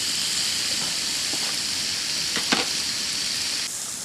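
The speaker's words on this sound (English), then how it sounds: "I haven't even put any oil in with this turkey, just frying it for about 5 minutes." Turkey sizzles steadily in a hot pan without oil, a constant crackling hiss with a few brief clinks of utensils, close up and without speech.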